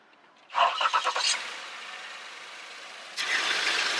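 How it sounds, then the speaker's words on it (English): A truck engine with a new belt is started using a TACKLIFE battery jumper: a short rapid cranking stutter catches, the motor fires and settles into a steady idle, then rises to a louder running hum. "New belt, no problem, start right up"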